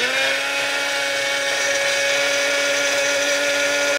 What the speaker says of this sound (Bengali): তো আমরা শুধু একটা কাঁচামরিচ, আধা ইঞ্চ আদা আর এই আধা কাপ টক দই দিয়ে এখন ব্লেন্ড করব।